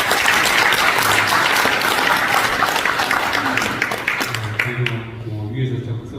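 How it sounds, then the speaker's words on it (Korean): A dense wash of audience applause at an investment signing ceremony, loud and sustained, tapering off near the end as a voice begins over the fading claps. "박수 한번 붙여주시죠."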